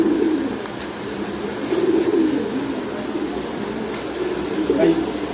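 Two pigeons with ash-coloured eyes at a Kaptan Bazar pigeon shop give a few low coos against heavy, rumbling market noise, with voices murmuring in the background.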